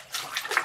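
A quick burst of water splashing during a puppet show, a hissy wash of droplets rising and falling over under a second, soft and close.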